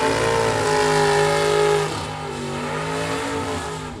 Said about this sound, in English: 20 on a tree and 2 over the dial in the 68 Camaro for Wayne Cook.